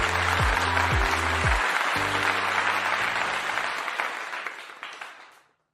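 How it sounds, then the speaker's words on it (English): An audience applauds a speaker at a conference with a steady wash of clapping that fades out toward the end, while a short musical sting plays beneath it at the start. "let us give a round of applause to Ms. Marilyn C. Castillan"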